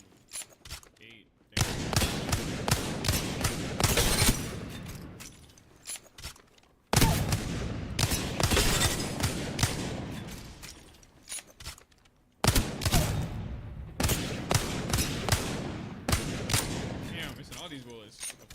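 Bursts of gunfire from the shooter game FragPunk, three loud sustained volleys of rapid shots separated by short pauses, with voices around the action.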